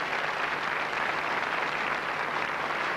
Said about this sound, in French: Voilà des applaudissements très chaleureux.